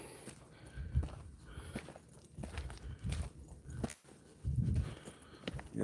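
Footsteps along a rocky river trail, uneven crunching steps with thuds of varying strength, fairly close amid outdoor background noise, no clear talking.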